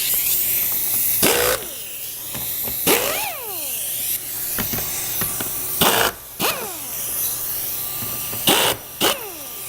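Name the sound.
impact driver removing lag screws from portable toilet base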